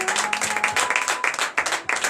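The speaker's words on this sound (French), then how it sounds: "donné de vives acclamations à mon Dieu" A church congregation at a morning prayer service in Benin claps and cheers in acclamation to God, steady dense applause with excited voices rising throughout, close and lively.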